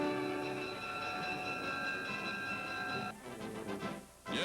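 A special train boarding for Washington on a 1942 war bond drive, its steady rumble and whistle tones carrying loud and sustained, then breaking into a rhythmic clatter of cars before a short dip and a return to full noise.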